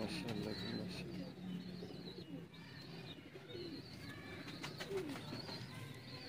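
Teddy pigeons on a rooftop loft coo at close range in low, repeated rolling calls, with a few higher chirps and faint background voices beneath them.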